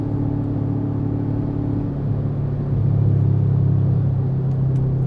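An Audi RS5 with its mufflers deleted drones with a loud, deep, steady exhaust note, its pitch shifting and swelling slightly midway as the engine pulls, with no talking.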